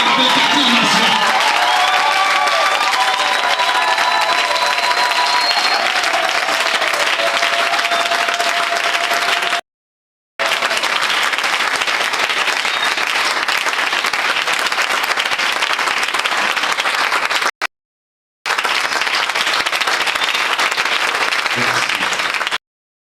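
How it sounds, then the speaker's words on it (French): An audience at a church gathering claps loudly to welcome a guest to the front, a dense sustained roar of applause with faint voices early on, broken by two short silent gaps. "On invite avec acclamation."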